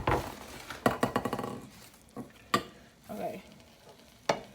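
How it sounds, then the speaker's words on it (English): Chicken frying in a pan, with soft sizzling under a few sharp clinks and scrapes of stirring and utensils against cookware; a voice says a word near the start. "I'm just gonna let it sit until it start sizzling"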